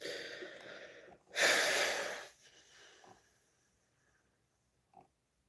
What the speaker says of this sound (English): Scratchy, itchy, nosy sniffs.